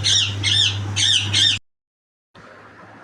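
Hens squawk in a burst of four loud, harsh calls at close range over a steady low hum, then a brief silence before quieter noise resumes.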